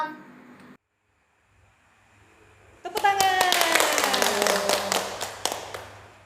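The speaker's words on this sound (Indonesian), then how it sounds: "Tepuk tangan." An audience at a Sunday school church service breaks into brisk, dense hand clapping after a brief quiet pause, with many close claps in a steady patter that lasts several seconds.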